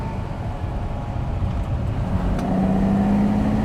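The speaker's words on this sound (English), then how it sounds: "I'm just barely touching the throttle to nurse this brand new engine into life" Rebuilt 1960s Ferrari V12 in a 330 GT 2+2 or 365 GT 2+2 running in at light throttle, a low, smooth, steady engine drone that gradually swells as the revs rise slightly.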